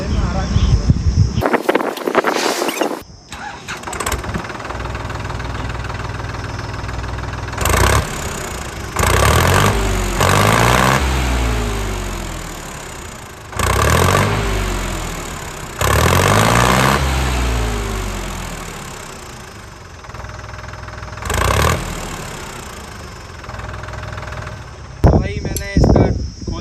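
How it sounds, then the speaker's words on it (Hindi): A Bluehorse tractor engine runs after a home service, idling roughly and repeatedly revving up and dropping back in surges, loud and close, with voices talking over it. "एक बार ट्रैक्टर स्टार्ट करके इसका साउंड देखते हैं"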